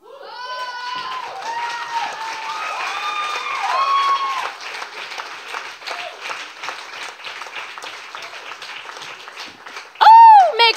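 Audience applause and whoops at a live spoken-word show, with sustained clapping under bursts of shouted cheers, then a loud voice rising sharply near the end.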